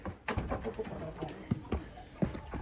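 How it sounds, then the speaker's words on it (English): Roughly eighteen birds in a coop cooing softly in short repeated calls, with faint rustling and a few sharp knocks close by. "about 18 birds in there maybe"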